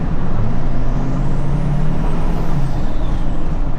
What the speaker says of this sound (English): I want you guys to see if you can hear the turbo though